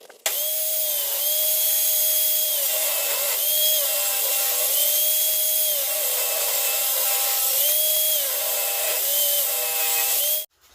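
A power saw rips scrap wood into 7mm strips, its loud, steady motor whine dipping in pitch each time the blade bites through a board, in several passes before the motor cuts off.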